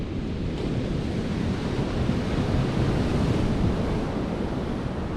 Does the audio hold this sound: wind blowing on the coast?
yes